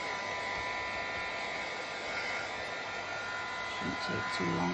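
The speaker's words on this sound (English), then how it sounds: "You might just need to put up with the heat gun noise for a little while." A heat gun blows steadily over a journal page, a constant close airy roar with a faint electric whine, while a person speaks briefly over it near the end.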